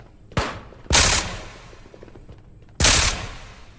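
Three sharp, loud gunshots, spaced irregularly and ringing briefly, fired from a rifle-style weapon in the VR shooter Ghosts of Tabor, with no voices.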